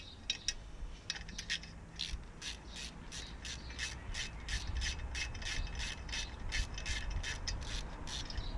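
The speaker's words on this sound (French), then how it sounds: "moi je me rééquipe du petit cliquet," Small ratchet wrench turning on a pit bike during an oil change, a steady run of quick close clicks repeating across the whole stretch with light workshop background.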